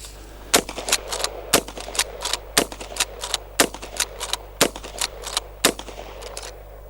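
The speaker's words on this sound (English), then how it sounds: "all I'm going to do is just cycle through the 6 shots and just see how it feels." An Adler A-110 lever action shotgun is cycled through six shots, giving a steady run of sharp, loud metallic clacks from the lever action, repeated at roughly even intervals with no talking.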